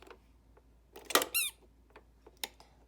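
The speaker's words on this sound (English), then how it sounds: "That's the only one that has a squeaker." A squeaker inside a 1980 Sesame Street pop-up toy gives a sharp squeak with a rising, warbling pitch in the middle, framed by faint clicks and taps from the plastic toy.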